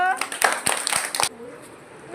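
Young children in a math class give a short burst of clapping, several sharp claps in an uneven rhythm that stop abruptly, followed by a quieter room with faint talk.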